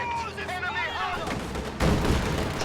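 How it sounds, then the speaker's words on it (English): Infiltration grenades going off inside a building in a real-time strategy game: a heavy, loud blast bursting in near the end over game battle noise, with a commentator talking throughout. "we've also got infiltration grenades being thrown into this building by Neo"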